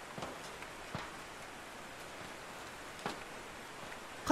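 Rain falling in a horror video game set on an emergency stairwell, a soft, even hiss of drizzle with occasional faint drops, steady and quiet throughout.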